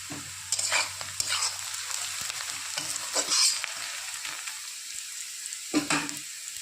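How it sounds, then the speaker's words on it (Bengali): Chunks of potato and cauliflower go into a pan of lightly fried onion, bringing a steady sizzle with scraping stirring strokes and a few louder bursts as the pieces are tossed, close up with no voices. "এদিকে পেঁয়াজটা হালকা ভেজে নিয়েছি। এবার দিয়ে দেবো এর সাথে ফুলকপি আর আলু।"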